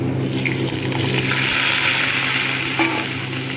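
Cauliflower florets go into hot oil where cumin seeds are already frying, producing a loud, dense, continuous sizzle and crackle with soft stirring clatter.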